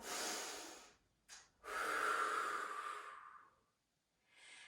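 A deep yoga breath, a long close inhale through the nose followed after a brief pause by a full, drawn-out exhale that fades away, then another breath begins.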